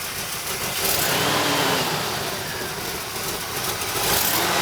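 A Chevrolet 350 Corvette V8 fitted in a 1952 Jaguar XK120 fixed-head coupe runs steadily close by, a loud, continuous engine rumble with slight swells in revs and no talk.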